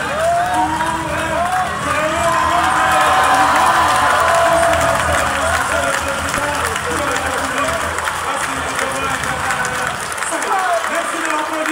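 A large crowd cheers, shouts and applauds at a school ceremony honouring a teacher. The noise is dense and continuous, with voices rising and falling for about twelve seconds.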